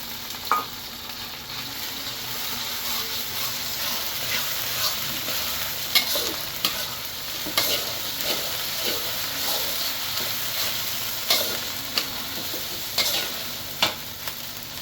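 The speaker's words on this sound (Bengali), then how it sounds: "পেঁয়াজটা হালকা ভাজা ভাজা হবে" Onions sizzle steadily in a hot pan with ginger-garlic paste, nutmeg and green chillies, with scattered sharp pops and crackles and a few clinks of stirring, with no talking.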